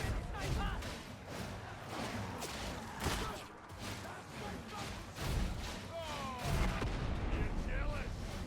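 Combat in Darktide with a grenade blast amid repeated booming impacts and gunfire, heavy thuds recurring across the clip over a dense, noisy battle background.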